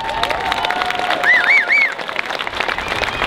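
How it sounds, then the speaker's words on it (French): Crowd applause at a Montpellier Pride speech, dense clapping throughout, with a few bright whistles or cheers rising briefly in the middle. "Élodie Brun, merci de l'applaudir très fort."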